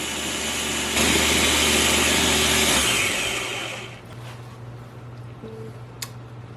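A food processor whirs loudly while blending Thai basil sauce with lime juice for zucchini noodles, a steady high-pitched motor roar for about three seconds before spinning down to a low hum.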